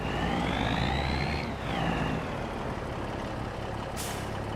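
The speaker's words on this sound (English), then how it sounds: "This truck has no issue pulling it." A semi truck in a driving video game hauls a heavy fertilizer trailer, its engine droning steadily with a rising gear whine that drops off, followed by a brief hiss of air near the end.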